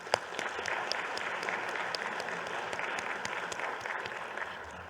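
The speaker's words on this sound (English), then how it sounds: "we would like to give her a round of applause" A luncheon audience at an awards event applauds an honoree, sustained, even clapping from many hands filling the room, steady in level for several seconds with no talk over it.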